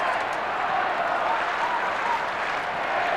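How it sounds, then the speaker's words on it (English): A large crowd at a 1993 Australian football match between Adelaide and Collingwood claps and cheers in a dense, steady wash of applause that carries from a distance and fills the whole stretch. "The crowd in festive mood now."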